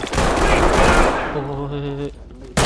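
Rapid automatic gunfire in the tactical shooter game Ready or Not, a loud dense burst that fades into a ringing tone before a final sharp hit.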